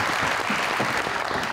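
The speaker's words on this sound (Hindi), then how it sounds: "बहुत सारी तालियों में।" Studio audience on a Pakistani television talk show applauding as a guest comes on, a brief burst of dense, steady clapping heard close and full.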